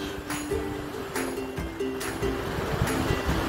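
Ocean surf at Angels Beach in Ballina rolls in as a soft, steady wash of waves with light wind buffeting the microphone, heard from a distance.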